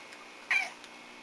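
A house cat lets out a single short meow at close range, a brief bright call standing out against a quiet, low indoor background.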